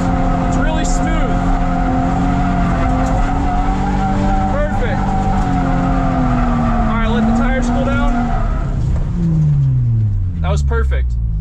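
A car doing donuts while learning to drift, engine droning steadily with tire squeal rising and wavering throughout, loud and close, with people talking over it.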